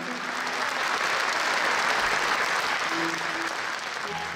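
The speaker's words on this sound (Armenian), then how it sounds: "ծափարություններով ենք դիմավորում" Audience applause at an Armenian concert, a dense steady wash of clapping that holds for the whole stretch with a few faint voices mixed in.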